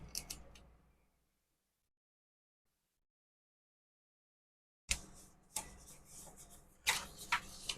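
Scissors snip off excess paper in a few crisp, close cuts, a short snip at first, then silence, then a run of sharper crunchy snips.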